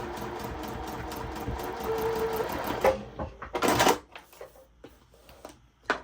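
A sewing machine stitches quilt block pieces in a fast, even whir for about three seconds, then stops. A few shorter bursts and soft handling clicks and rustles follow, all close and fairly quiet.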